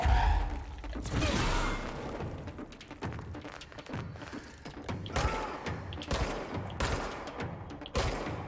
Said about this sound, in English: this rapid fire is fucking them up